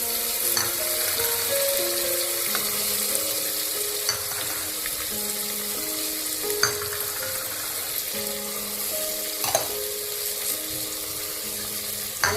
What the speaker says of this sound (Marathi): आणि हे भाज्या अशा छान मसाल्यामध्ये परतून घ्यायचा